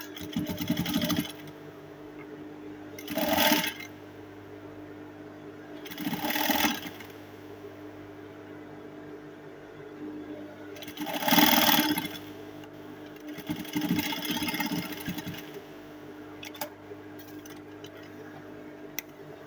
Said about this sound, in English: I'll sew it like so to the back